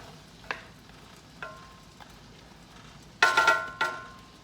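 Celery and onion sautéing in butter, a soft background sizzle broken by a few sharp utensil taps and stirring scrapes, with a brief cluster of louder clatter toward the end.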